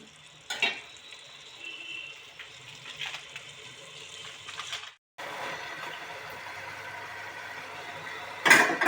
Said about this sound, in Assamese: মাংসখিনি অলপমান সময় ধুনীয়াকৈ ভাজি লোৱা হ'ল